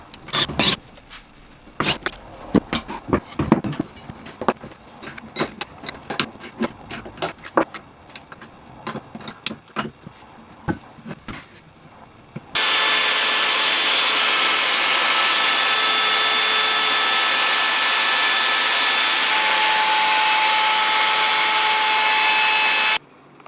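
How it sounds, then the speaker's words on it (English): A router rounds over the edges of oak boards: first a stretch of scattered scraping, knocking handling noises, then the router runs as a loud, steady, close high whine for about ten seconds before cutting off. "I kept the router out and I finished each board using a roundover on all of the edges."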